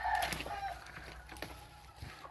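Game chickens, a rooster kept up high with two hens, give scattered clucks and short calls at moderate distance, with no talk.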